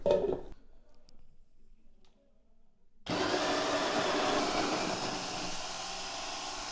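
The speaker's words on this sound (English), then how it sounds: "I'm going to push the grinder down basically so that the pieces, they stick together." A GRAEF CM800 coffee grinder grinding espresso beans starts after a few seconds of quiet, then runs with a loud, steady whirring grind close by, easing slightly toward the end.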